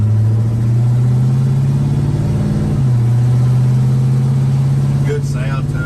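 A lowered 1977 square-body truck cruising down the road, its engine holding a steady, continuous low drone with only a slight shift in pitch midway, heard from inside the cab.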